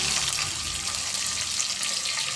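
Mustard seeds, cumin, curry leaves and chillies frying in hot oil for a North Karnataka mandakki oggarane, a loud, steady, close crackling sizzle with no pauses.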